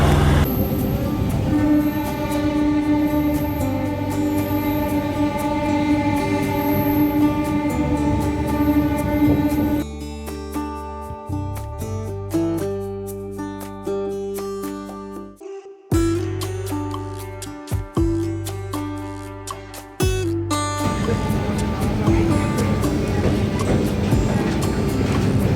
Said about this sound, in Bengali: চলুন ট্রেন জার্নি করে প্রথমে যাই মেচেদা